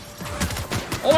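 Rapid gunfire in The Outer Worlds, a short burst of several close shots fired in quick succession, with a voice speaking over it.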